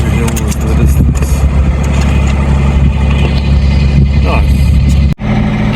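A boat motor drones loud and steady while cruising slowly along the coast near Port Macquarie, a deep continuous rumble with a brief dropout near the end and a voice speaking over it.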